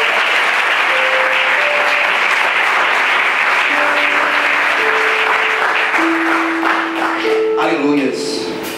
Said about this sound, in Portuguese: Será que você pode aplaudir o nome de Jesus?